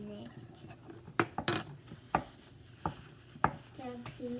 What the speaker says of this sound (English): we're gonna stir it for 2 minutes